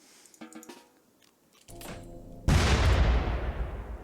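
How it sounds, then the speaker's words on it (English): Grenades detonate in the Rimworld video game, a sharp burst at the midpoint followed by a loud, sustained roaring blast that fills the rest of the moment, preceded by quieter scattered game noises. "let's see if we can't throw down a few grenades here and cause some issues"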